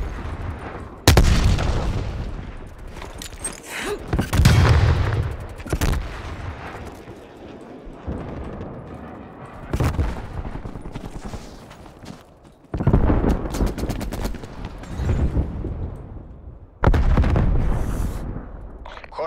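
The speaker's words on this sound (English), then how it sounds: "Throwing grenade." In a video game, a grenade blast and bursts of gunfire thunder through repeated loud, booming volleys separated by quieter gaps.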